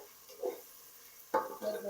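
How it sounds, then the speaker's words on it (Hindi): Garlic ginger paste dropped into onions frying in a pan, giving two short bursts of sizzling with stirring scrapes, fairly quiet, with a soft pause in between. "अब मैं इसमें ये लहसुन अदरक का पेस्ट ऐड कर रहा हूँ।"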